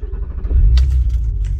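A Volkswagen R32 rumbles as it drives off, with a deep low engine note building over a second and a few brief lighter rattles on top.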